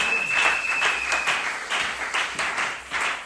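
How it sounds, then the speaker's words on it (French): A church congregation applauds during a Tuesday worship service, rhythmic clapping in bursts, moderately loud and fairly close, carrying through the whole short stretch. "Applaudissez pour le Seigneur Jésus."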